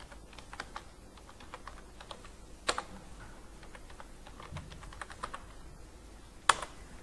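Typing on a computer keyboard, a steady run of light clicking keystrokes close up, with a couple of sharper louder key hits standing out.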